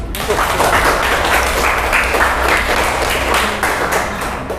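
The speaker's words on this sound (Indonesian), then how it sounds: "Tepuk tangan sekali lagi." Steady applause from a crowd, dense clapping held at an even level for several seconds with a murmur of voices underneath.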